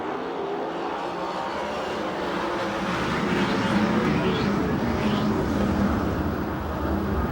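Sprint cars from a USAC/CRA race at Perris, California roar steadily around the track after a restart, a continuous loud engine drone with a faint rising whine partway through.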